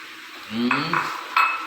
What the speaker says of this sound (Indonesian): Kita aduk halus sampai rata.